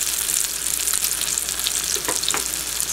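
Swai fish crusted with Parmesan and fried onions fries in a pan, giving a loud, close, steady sizzle with a few brief scraping clatters from a spatula and no speech.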